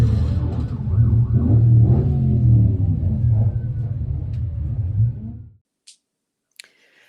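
Kit cars such as Exocets, Westfields and Morgans running on the track at Santapod Raceway, a loud close engine drone with rising and falling revs that cuts off abruptly, followed by a few faint clicks.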